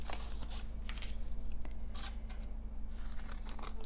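Scissors snipping paper for a traveler's notebook journal, a series of quiet crisp cuts and light rustles over a low steady hum, close and soft with no voices.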